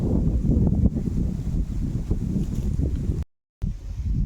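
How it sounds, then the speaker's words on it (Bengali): Wind blows under a tree, a loud rumbling gust buffeting the microphone with faint leaf rustle, continuous apart from a brief dropout near the end. "দেখুন কি সুন্দর হাওয়া দিচ্ছে"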